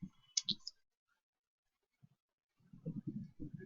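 Computer mouse clicks while working in Microsoft Dynamics software, a couple of quick near clicks at the start, then a pause before soft sounds resume.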